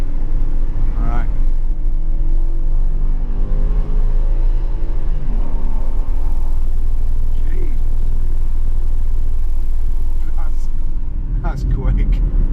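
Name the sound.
Jaguar XF 5.0 V8 S car accelerating while driving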